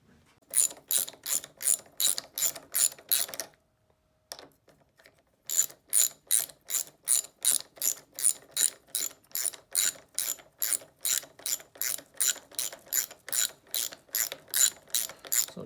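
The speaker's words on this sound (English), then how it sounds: "10 mil deep socket for the bottom locking nut, and 12 mil open end wrench for the pivot bolt to keep it in place" Deep socket ratchet tightening the bottom 10 mm locking nut on a Kawasaki KLX handguard: steady runs of close, crisp clicking, a brief pause near four seconds, then more rapid rhythmic ratcheting strokes.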